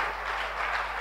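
Church congregation applauding during a worship service, a steady wash of dense clapping filling the short moment with no pauses and no voices.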